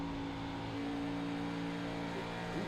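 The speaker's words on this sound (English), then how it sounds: "You heard he got on the throttle there very early and had to get right back out of it" A race car engine in a sim racing game, an Auto Club circuit, holding a steady droning tone throughout, fairly faint and without any sharp rise, as the throttle goes on early and then comes off.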